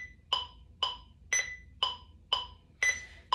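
Metronome ticking alone at a steady pulse, six crisp clicks about half a second apart, one louder and higher click marking the start of each group of three, quiet and close.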